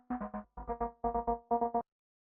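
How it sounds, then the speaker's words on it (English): A synth chord chopped into rapid rhythmic pulses by a gate keyed to a hi-hat pattern, four clusters of quick stuttering bursts with short gaps between, clean and alone. "That is the same synth from the verse. Its gate is controlled by a rhythm of a hi-hat."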